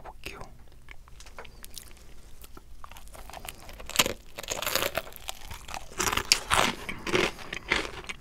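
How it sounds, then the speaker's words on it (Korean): Close, crisp crunching and wet chewing of chicken with habanero mustard sauce, irregular bites growing louder toward the end, with faint whispery sounds between them. "하바네로? 하나베로? 머스타드 소스 한번 같이 먹어볼게요"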